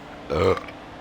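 A single deep burp rumbles close and loud during live racing commentary, brief and abrupt before fading out.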